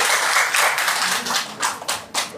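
An audience at a religious study gathering claps together in steady, dense applause that thins into uneven claps toward the end, with a voice faintly underneath.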